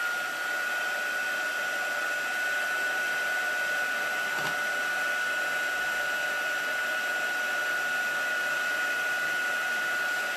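Heat embossing tool blowing hot air to melt clear embossing powder on a card front, a steady loud whirring drone with a high whine that holds for the whole stretch without talk.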